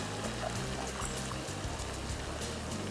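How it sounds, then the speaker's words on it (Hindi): Half a cup of water pours into a cooking pot of karela gosht, a continuous splashing trickle lasting a few seconds at close range. "ज़रा हाफ अ कप पानी मैंने सिर्फ इसलिए ऐड किया कि वरना ये बहुत ज़्यादा ड्राई हो जाएगा"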